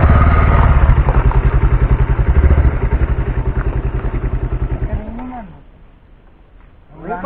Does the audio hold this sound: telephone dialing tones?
no